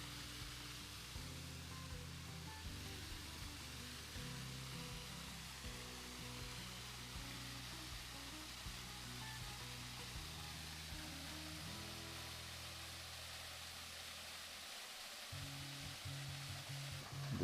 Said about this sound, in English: Here is the first set of waterfalls area that you come to, which is known as Stair Falls.